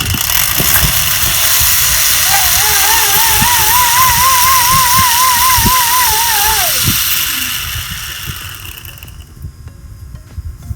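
A bicycle is pedaled to spin a motor attached as a simple generator, giving a steady mechanical whir with a rising and falling tonal whine that wavers with each pedal stroke for several seconds, then winds down and fades.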